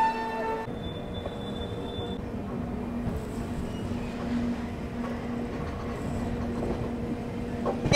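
The Vikramshila Express pulls out of a station in India, a low steady rumble of the moving train with a faint tonal hum, continuous and moderately quiet, with no speech.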